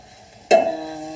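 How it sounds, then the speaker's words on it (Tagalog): Vegetables stirred in a pan, a single scraping clatter of a utensil followed by a soft, settling sizzle, close and brief. "Haluan ko lang siya guys"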